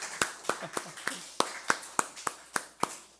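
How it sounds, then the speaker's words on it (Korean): In a Korean Sunday worship service, sharp individual hand claps ring out in a loose, steady rhythm of about a dozen strikes, close and clear over a faint room hum. "이 대목에서 우리가 박수로 하나님께 영광을 올려야 되는 거 아닙니까?"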